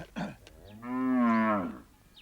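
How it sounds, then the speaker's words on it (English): A single long, loud moo from Maasai cattle in a prophet's large village herd, rising and holding for about a second before fading, heard close and alone with no talk. "He has many cattle, many sheep and goats"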